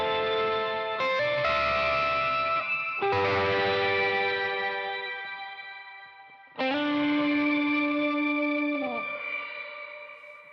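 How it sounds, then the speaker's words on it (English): Electric guitar through a rolled-back overdrive with a shimmer octave-up reverb: sustained chords bloom into a bright, ringing wash, played alone in three swelling phrases that slowly decay. "a shimmer is essentially an octave up reverb, and you can get some really, really crazy sounds using it"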